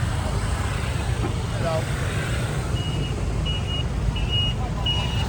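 City street traffic in a busy town, with a constant roadway rumble of passing cars and a repeating reversing beep partway through, heard under people talking.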